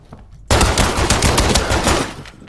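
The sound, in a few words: gunfire in a video game shooter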